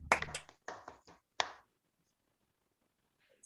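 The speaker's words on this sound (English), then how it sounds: "I think we all can clap for each other." Participants at the close of an online low vision course clap briefly, a few scattered sharp claps over about a second and a half, then near silence.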